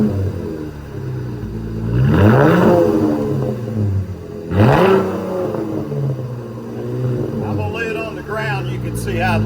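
A 2019 Chevy Camaro RS V6 fitted with a Cherry Bomb Extreme exhaust, idling and then revving twice in loud, rising swells with a deep rumbling tone, close by, settling back to a steady idle between revs.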